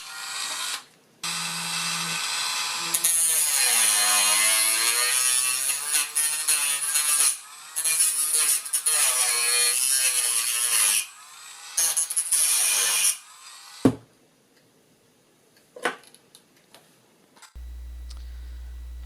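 A high-pitched Dremel rotary tool whines loudly as it cuts into a plastic hand controller case, its pitch wavering in long bursts, then stops, leaving a few clicks and knocks.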